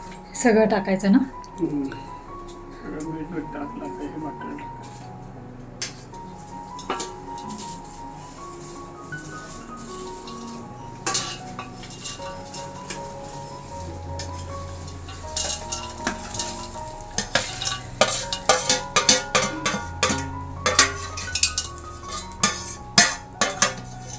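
Ingredients for thin poha chivda with powdered sugar being stirred and tossed in a pan, with repeated metal scrapes, clinks and soft rustling that grow busier toward the end, close, under a person talking throughout.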